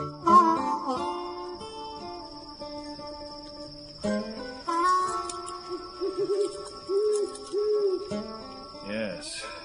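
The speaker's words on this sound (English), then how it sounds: "A clamorous owl that nightly hoots and wonders at our quaint spirits." An owl hoots repeatedly in a nighttime radio-drama soundscape, clear and fairly close, set over a steady high insect-like drone with crickets chirping in the background.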